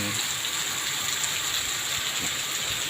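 Steady rain pours down during a workday outdoors, a dense, even hiss filling the whole stretch without pause, fairly loud and close.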